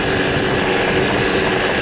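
A Club Car golf cart's small gasoline engine, still governed, runs steadily at wide open throttle, a loud, continuous close-up drone with no talk.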